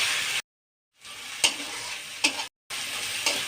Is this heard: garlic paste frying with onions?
yes